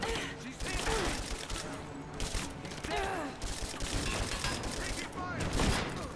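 Assault rifle fire in Rise of the Tomb Raider: dense, crackling bursts of shots with booming impacts and clattering game effects, loud and continuous through the scene.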